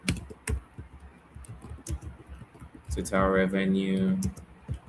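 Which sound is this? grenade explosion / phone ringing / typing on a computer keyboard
typing on a computer keyboard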